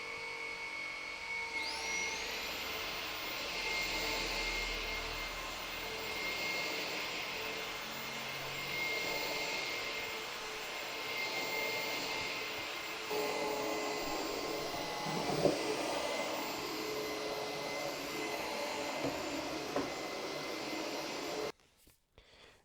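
Conga RockStar 2500 Ultimate ErgoWet stick vacuum running in auto mode, a steady loud whirring motor hum with a high whine that holds for about twenty seconds before switching off abruptly.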